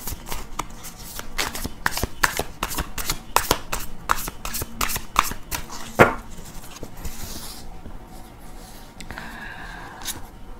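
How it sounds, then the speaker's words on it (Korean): Tarot cards are shuffled and drawn in a series of crisp riffling snaps and slaps, close and fairly quiet, followed by softer sliding and handling sounds as a card is pulled. "한 번 더 카드를 뽑아보도록 할게요"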